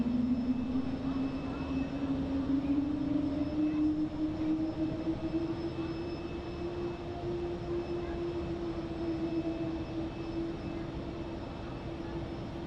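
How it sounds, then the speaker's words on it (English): A Helvetic Airways Embraer E2 jet airliner at Zurich Airport roars with a steady engine drone and a slowly rising whine, heard from a distance and fading gradually as it passes. "there's an awesome Helvetic Airways, the E2"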